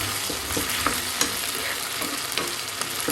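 Okra and potato stir-fry crackles and sizzles loudly in a pan as it is stirred, a dense continuous frying hiss with repeated soft scraping strokes throughout; no voices.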